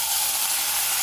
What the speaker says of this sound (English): So after the initial splash of water where steam kind of explodes out